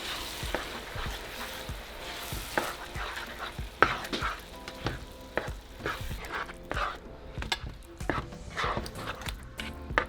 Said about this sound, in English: And now just mix it all together.